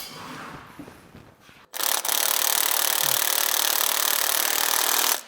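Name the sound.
impact wrench tightening small bolts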